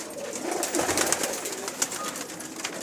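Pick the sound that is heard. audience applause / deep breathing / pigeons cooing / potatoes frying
pigeons cooing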